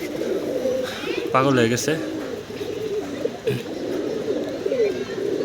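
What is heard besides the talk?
pigeons cooing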